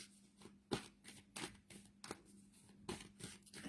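A deck of cards is shuffled during a psychic reading, giving quiet, rhythmic riffling bursts about every half second, close and soft.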